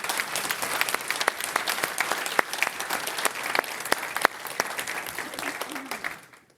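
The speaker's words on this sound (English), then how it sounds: "give them a round of applause, please" An audience applauds steadily at an autumn awards celebration, a dense round of clapping with sharp individual claps that carries on for about six seconds before fading out.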